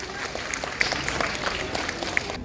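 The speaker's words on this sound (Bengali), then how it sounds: "অপরের জন্য একটু জোরে করতালি দেবেন" An audience at an honours ceremony gives a steady round of applause, many hands blending into a continuous patter with a few sharper claps standing out.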